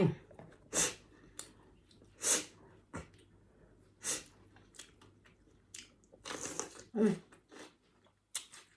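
Crunchy pork steak being chewed up close, several loud crisp bites and crunches spaced a second or so apart with breathing in between, quiet otherwise.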